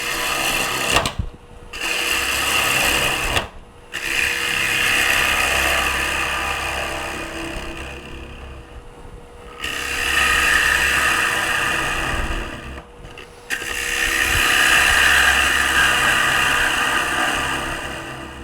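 A gouge cuts a wooden bowl spinning on a lathe with a loud, continuous rasping whine that runs in long passes, broken by short pauses where the tool lifts off the wood.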